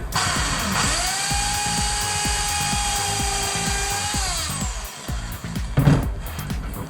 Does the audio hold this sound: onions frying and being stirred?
no